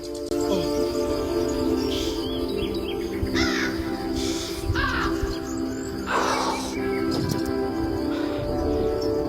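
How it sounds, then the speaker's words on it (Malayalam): Crows caw several times at intervals, some close and loud, over a steady chorus of insects chirping in the background. "നല്ല കാക്ക ശല്യമുണ്ട്"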